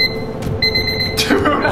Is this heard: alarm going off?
yes